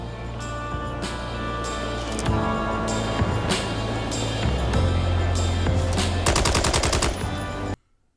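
Rapid bursts of gunfire in the video game Mindseye, thin and airy, dense and continuous with a brief rattling burst near the end, then an abrupt cut to silence.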